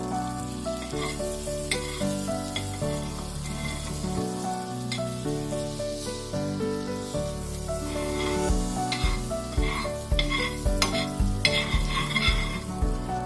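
Butter melts and sizzles in a hot pan for pasta, with a continuous crackling fry, occasional stirring scrapes and faint clinks over a steady close hiss.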